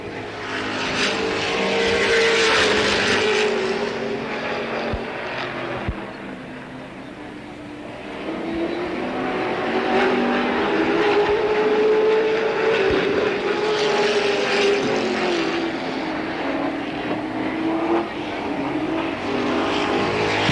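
Late model race cars roar around an oval track at Capital in 1985, a continuous loud engine drone rising and falling as the pack passes, with an announcer talking over it.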